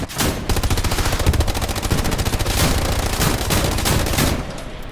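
Gunfire in the World War II shooter Hell Let Loose, heard from a tank crew's position: loud, nearly continuous automatic-weapon bursts with rapid overlapping shots that barely pause across the whole stretch.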